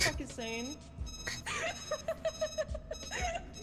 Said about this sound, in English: What's that beeping sound?